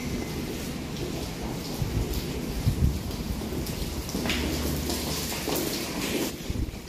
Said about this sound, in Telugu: ఇది మా సైడ్లో కింద ఫుల్ వర్షం అన్నమాట.